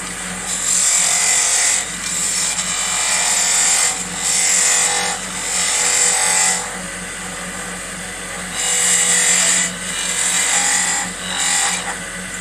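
A woodturning parting tool cuts into a piece of wood spinning on a lathe. The scraping hiss comes in repeated bursts of a second or two, close and loud, over a steady low machine hum.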